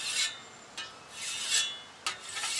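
A finer-grit stone is drawn along a scythe blade in a rhythmic series of close, bright, rasping strokes, each one starting with a sharp scrape and then fading into a smooth hiss.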